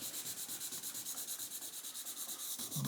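Hand sanding the paint on a 1977 Camaro Z28 with 1000 grit sandpaper gives a steady, rhythmic scratchy rubbing of back-and-forth strokes, close and fairly quiet, with no talking.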